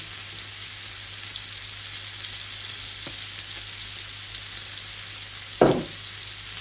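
Potato and spice mixture fries in oil in a pan with a constant, even hiss of sizzling, broken by a faint tap and then one sharper knock near the end.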